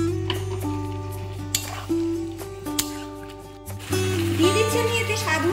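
Spice masala sizzles while being sautéed and stirred in a pan, with scraping stirs and a soft frying crackle; a voice talks throughout and background music tones hold steady underneath.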